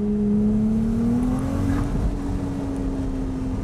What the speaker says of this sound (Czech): Oni tomu motoru už od začátku říkají Little V12, to znamená malá V12, a ten zvuk v sobě mísí hned několik různých aut a motorů.